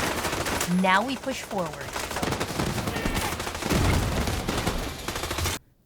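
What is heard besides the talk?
gunfire in video game The Division 2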